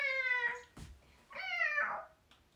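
A woman imitates a cat's meow with her voice, two drawn-out nasal mewing calls separated by a short breathy pause, close and clear with no other sound.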